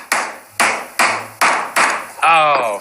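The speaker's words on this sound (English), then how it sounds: "Just get a bigger hammer and hammer it" Hammer blows drive a wooden dovetail joint together, about five sharp, evenly spaced strikes close up, followed by a brief voiced exclamation.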